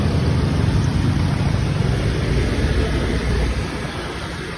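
A motorbike carries a rider across town in Thailand, its engine a continuous, loud, close rumble with rushing wind noise that eases slightly toward the end, with no talk.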